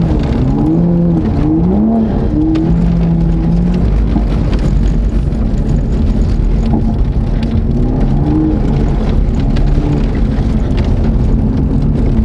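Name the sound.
Toyota Supra driving on a dirt road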